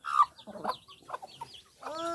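Close chickens clucking and murmuring in short bursts, with a few higher squawks scattered through, moderately loud and unaccompanied by talk.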